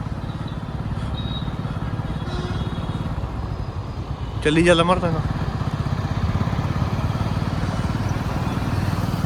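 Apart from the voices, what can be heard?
motorcycles and cars passing in Amloh market street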